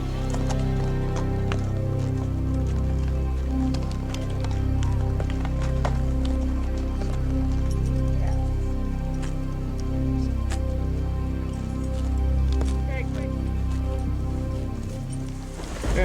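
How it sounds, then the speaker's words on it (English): Hail and rain pelt down steadily during a hailstorm on a mountaintop on a horseback trip, a dense constant patter with scattered sharp impacts and a low rumble underneath throughout. "In a huge hailstorm that we're in right now"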